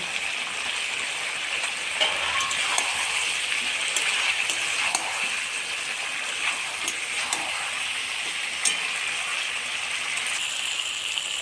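Chicken and potatoes frying in oil in a pan for a traditional Bengali chicken curry, giving a steady, loud bubbling sizzle throughout with small crackles and pops scattered on top and no talk.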